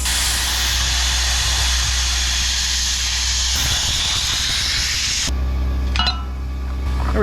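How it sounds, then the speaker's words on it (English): A plasma cutter fed by an air compressor cuts metal with a loud, continuous hiss. The hiss stops abruptly partway through, leaving a quieter hum with a few faint clicks. "got my air compressor going, as you can hear"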